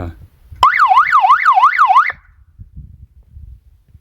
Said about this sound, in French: Donc j'ai la sirène, mais alors ça fait un potin.